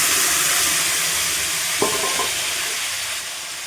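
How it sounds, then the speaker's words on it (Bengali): Potatoes frying in hot oil in a kadai give a steady, close sizzle throughout, with one short stir or clink of a utensil near the middle. "এখানে আমি তেলের মধ্যে আলুগুলো দিয়ে দিলাম"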